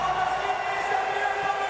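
A crowd at a night freestyle motocross jump event roars and cheers in a steady, dense wash of voices, heard from a distance across the arena.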